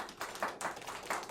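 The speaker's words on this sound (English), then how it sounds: "A big, big round of applause for Michael Soltau." A few hands clap in a short, uneven burst of applause for artist Michael Soltau at a show, individual claps distinct and close rather than a full crowd.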